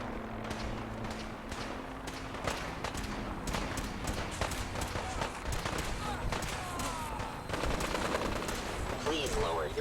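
Rapid bursts of gunfire from Fallout 4 crackle across the whole stretch, dense and continuous, with a quick exchange of shots and some clattering under the fire.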